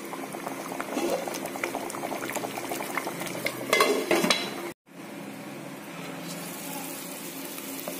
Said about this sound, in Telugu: ఇప్పుడు దీన్ని 1-5 నిమిషాల పాటు హై ఫ్లేమ్ లో పెట్టి ఉడికించుకోవాలి.